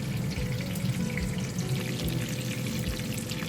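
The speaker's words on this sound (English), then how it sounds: "start frying our breaded shrimp" Breaded shrimp fry in oil with a dense, even sizzling hiss that holds steady throughout, close by with no talking.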